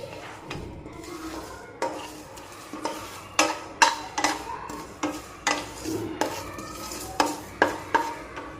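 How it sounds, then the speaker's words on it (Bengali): Whole coriander, cumin, bay leaves, a dried chili, cinnamon and cardamom dry-roasted in a pan, with a regular series of scraping clanks from a spoon or spatula stirring against the metal, close and moderately loud. "এবার এটাকে হালকা ড্রাই রোস্ট করে নেব"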